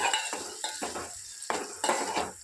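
Onions with curry leaves and turmeric being stirred in a pan, a series of close scraping spoon strokes against the metal over a soft sizzle, in uneven rhythm with no talk.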